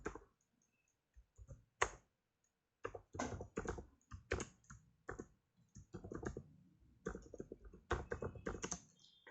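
Computer keyboard typing while writing Python code, irregular bursts of quiet clicking keystrokes with short pauses between runs, close and isolated in a silent room.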